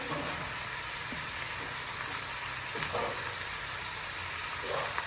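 Onion hits hot oil in a pot and fries with a steady, close, loud sizzle, with a few stirring scrapes rising above it and no talk.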